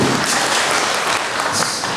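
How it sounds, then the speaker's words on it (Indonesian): Applause from an audience at a village officials' coordination meeting in Sragen, honoring a constitutional speech prize winner; dense, steady clapping fills the short stretch without a break. "Tepuk tangan dulu."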